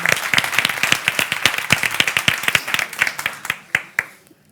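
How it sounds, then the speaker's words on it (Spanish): Audience applause in a club hall at a women-in-science event, a crowd clapping in dense, irregular bursts that thin out to a few last claps and fade near the end. "muchas gracias por el aplauso"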